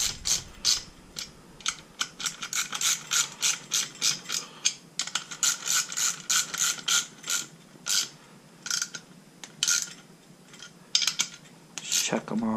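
Ratchet wrench tightening bolts on the top end of an 80cc motorized bicycle engine, a fast run of close, crisp ratcheting clicks in bursts with short pauses throughout.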